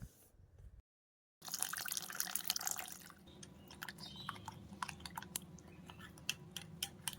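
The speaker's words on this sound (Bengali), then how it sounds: "1 কাপ পরিমাণে জল দিয়ে ভালো মতন একটা ব্যাটার তৈরি করে নিতে হবে" Water is mixed into mushroom pakora batter made with turmeric and red chili powder, giving a close, wet, sloshing stir full of small clicks and drips that runs steadily after a short silent gap.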